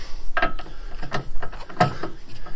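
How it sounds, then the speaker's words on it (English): A small spanner works at bolts on an Abarth car, giving a few sharp metallic clicks and ratchety scrapes spaced irregularly across a couple of seconds, close by, with no talking. "I have to get a small spanner on that"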